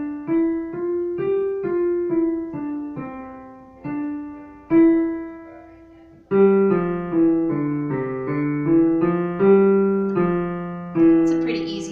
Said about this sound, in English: So our Little River song sounds like this